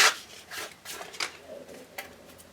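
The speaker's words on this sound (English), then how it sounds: "we can use some sandpaper there and just give that a bit of a touch up on the inside" Sandpaper rubs over the inside of a soft foam cosplay chest plate for an Iron Man Hulkbuster suit. The short, scratchy strokes are close and fairly loud and come in an uneven rhythm.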